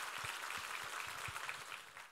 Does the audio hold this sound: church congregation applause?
yes